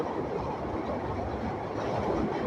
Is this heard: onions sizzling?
no